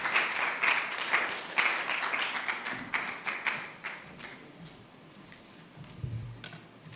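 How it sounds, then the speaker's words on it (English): Applause for a past president at an architects' institute meeting, sparse and fairly quiet, with distinct individual claps that thin out into a few scattered taps and a low thump near the end. "Let's applaud him as he takes his seat."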